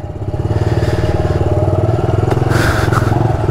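A motorcycle engine idles and runs steadily up close with a strong, even low pulsing, a brief clatter near the middle, and no talk, as the bike sits at a gas station.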